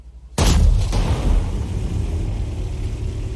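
A Rheinmetall Skorpion G tank gun fires once in a video game, a sudden loud boom that rolls into a long, heavy rumble and slowly fades without dying away.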